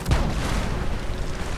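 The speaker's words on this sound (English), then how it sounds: "It seems an explosion has rocked the Nuka-Cola Quantum plant" An explosion at the Nuka-Cola Quantum plant in the video game Fallout 76 opens with a sharp blast, then settles into a loud, sustained low rumble with no talking over it.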